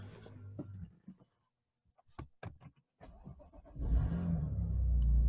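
A BMW M car (M2, M3 or M4) starts up: a few clicks and key-like jangles, then the engine catches at about four seconds and settles into a loud, steady rumble.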